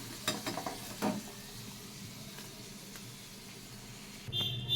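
Potato slices frying in oil, a continuous soft sizzle with a few clicks of turning pieces early on and a short clatter at the end.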